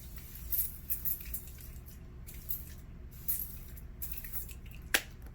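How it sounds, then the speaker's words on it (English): Thermal spring water misted onto a face from a spray can, several short soft hissing bursts spread over a few seconds, close and quiet with no talk. "I'm gonna hit my face with a spray of the thermal spring water"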